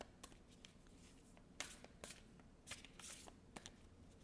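Tarot cards shuffled by hand, quiet close riffles and slaps in irregular bursts separated by brief pauses, no voices.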